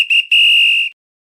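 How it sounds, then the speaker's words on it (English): A whistle blown loud and close, two sharp blasts: a brief chirp followed by a longer sustained blast, then silence. "I have the final whistle now"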